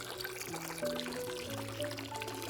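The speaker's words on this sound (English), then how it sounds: "I gently washed him with the hose." Water pours steadily from a hose as a donkey is washed, a continuous splashing gush heard close over a soft musical accompaniment.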